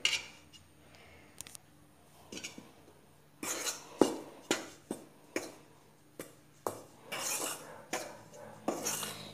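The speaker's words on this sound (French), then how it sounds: "avec la farine, la levure, le sucre, je vais d'abord les mélanger" Flour, yeast and sugar being mixed in a bowl for pizza dough, heard as a series of sharp clinks and scrapes of a utensil against the bowl, sparse at first and then more frequent and clattering, close and fairly quiet with no talking.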